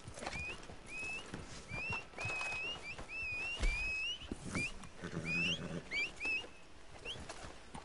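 Horse hoofbeats in the video game Red Dead Online, a patter of clip-clop steps running through the whole stretch under bird chirps and background game ambience.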